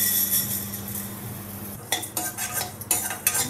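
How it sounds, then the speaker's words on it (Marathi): Urad and moong dal dry-roast in a pan over a low flame, with a steady hiss followed by clinking utensil scrapes and stirring against the metal, close and without speech. "ही सगळा मंद आचेवरच भाजून घेतोय."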